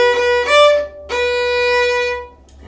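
Violin playing short staccato notes with the bow stopped on the string, two or three clipped strokes separated by brief silences, then a longer held note, close and clear with no voices.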